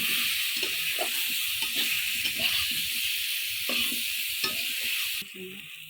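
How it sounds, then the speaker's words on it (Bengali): Cumin and coriander powder with ginger paste sizzle loudly in hot oil in a pan, stirred with repeated scraping strokes, as the masala for a raw banana and shing fish curry is fried; steady close-up frying with no talking. "জিরে আর ধনের গুঁড়ো আদা বাটা দিয়ে ভালো করে কষিয়ে নেব"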